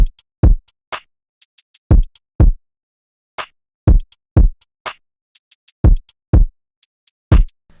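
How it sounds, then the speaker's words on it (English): RnB beat with three kinds of hi-hats playing three different rhythms, heard as sparse layered percussive hits: strong low kicks in a repeating pattern with ticking hi-hat taps scattered between them, no voices. "I used actually 3 different types of hi-hats and 3 different rhythms."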